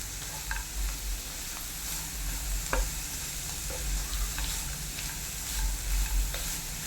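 Green beans and onion stir-frying in a pan without added water for a Kerala beans fry: a continuous close sizzle broken by repeated scraping stirs and occasional spoon taps.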